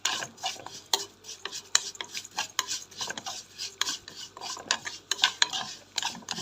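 Rice for Egyptian koshari is stirred quickly through onion-fried oil in a pot: busy, close scraping and clinking of a spoon on metal with a faint sizzle underneath, no voices.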